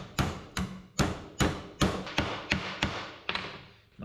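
A hammer strikes sheet metal on a metal anvil while fabricating the tunnel of a 1963 Loadstar truck, about ten sharp ringing blows at a steady, even pace, close and loud.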